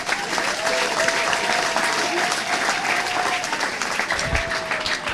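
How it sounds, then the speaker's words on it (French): A crowd at a Women's Day event in Congo applauds a woman leader, with continuous, full clapping throughout, loud and steady, with a faint tone and a low thump in the background. "Je nous demande de l'applaudir encore une fois"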